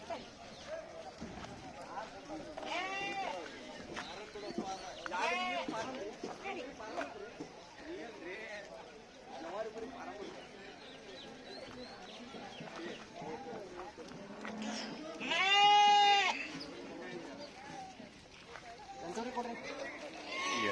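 Crowd chatter and movement continue throughout at the Hubli sheep and goat market, broken by scattered sheep and goat calls and one loud, wavering bleat near the end.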